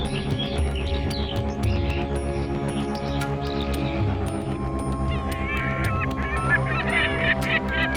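Honking and chirping birds call together in the Sundarbans jungle, repeated goose-like honks mixed with higher tweets over a steady bed of ambient music and sound.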